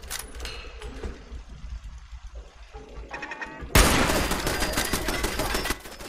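In the video game Fallout 4, quieter in-game ambience gives way to a submachine gun firing a dense, rapid burst of loud shots that lasts about two seconds.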